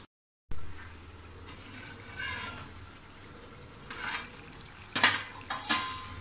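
Egg masala curry in a pan under a lid, soft bubbling and low sizzling with occasional clinks and scrapes of a utensil against the pot.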